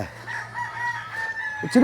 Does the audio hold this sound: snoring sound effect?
no